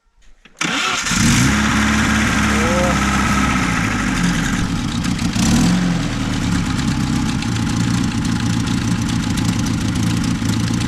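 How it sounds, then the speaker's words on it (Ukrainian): A VAZ 2105 car engine cranks briefly and catches, then settles into a loud, steady idle with a low rumbling drone that continues to the end. "Тата, ну заведи машинку."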